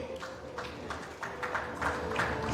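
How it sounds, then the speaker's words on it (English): Modest audience applause for a cement company CEO at a business event, soft irregular clapping over a steady hum that swells slightly toward the end. "Round of applause for him."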